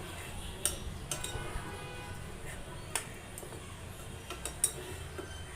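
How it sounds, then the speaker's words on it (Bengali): Chicken being stirred in a pot, with a few sharp metallic clinks of a utensil against the pot and a lid set down, scattered over a quiet low background. "এবার আবারও ভালো করে নেড়ে সেড়ে ঢেকে দেব"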